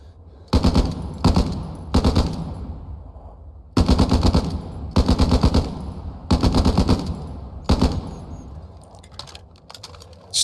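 A British bipod-mounted machine gun in Hell Let Loose fires in six or seven sharp bursts separated by short pauses, each a loud rapid rattle of shots close up, with faint clicks between.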